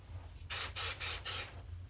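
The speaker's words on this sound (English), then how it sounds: "So I'm just going to go ahead and spray this on the cornfield." An aerosol can sprays onto a cardboard cornfield model in four quick, close hissing bursts, each about a fifth of a second long, separated by short gaps over a quiet background hum.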